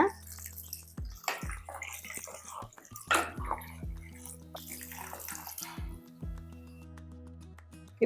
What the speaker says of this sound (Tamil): நல்லா இந்த ஆட்டுக்கால் வந்து முழுகிற அளவுக்கு தண்ணி ஊற்றிக்கங்க